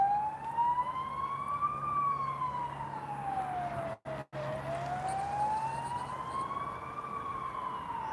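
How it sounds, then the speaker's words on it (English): A wailing emergency siren rises and falls in slow sweeps, loud and steady, with a brief cut-out midway and a low hum underneath. "I don't know why we have a siren here."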